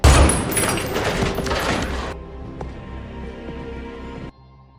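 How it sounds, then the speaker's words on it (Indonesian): A loud, dense burst of gunfire in an action film about former special forces soldiers roars for about two seconds, then cuts to a much quieter, rumbling tail. "Akibatnya, Peter ditembak."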